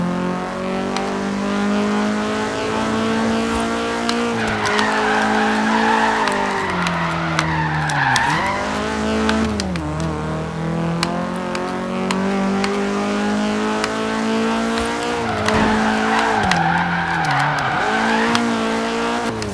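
A 2016 Vauxhall Corsa VXR in a racing video game drifting, engine droning steadily with shifting pitch as tyres squeal and skid in repeated long slides, loud and continuous with no talk.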